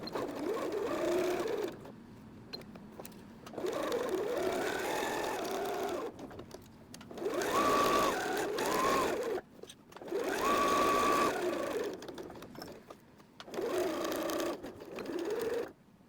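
A sewing machine stitches a tea towel apron seam in repeated bursts of a few seconds each, whirring close and steady with short quiet gaps between runs.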